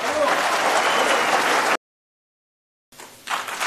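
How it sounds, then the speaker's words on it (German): Applause at a political rally of the AfD Pfalztreffen, a dense loud burst of clapping lasting under two seconds before cutting to silence, then faint voices returning near the end. "Einen herzlichen Applaus für René Aust."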